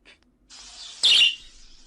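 A harsh, hissing bird call bursts out loudly for about a quarter second, with fainter, thinner calling before and after it, all heard alone.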